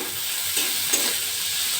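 Chopped capsicum and tomato fry with ginger-garlic paste in a pan, a loud continuous sizzling hiss close by, broken by a couple of soft stirring knocks.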